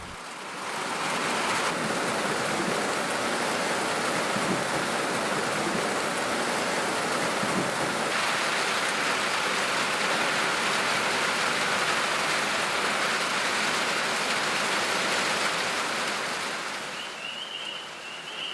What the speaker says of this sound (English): I've been looking forward to sitting on the porch and listening to it rain.